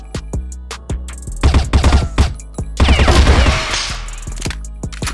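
Gunfire in the game Valorant: sharp single shots, then two rapid bursts of automatic fire, followed by more scattered shots and a fading echo.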